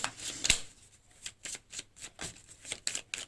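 Tarot cards shuffled and drawn by hand, a rapid series of crisp riffling snaps and soft flicks in an uneven rhythm, close and clear with no talk.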